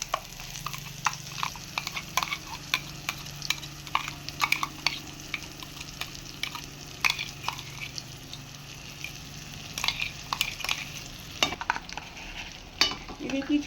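Dried fish shutki masala sizzles gently in a kadai on low flame, a soft continuous frying hiss broken by frequent scraping stirs and clinks of a spoon against the pan, close and without talk.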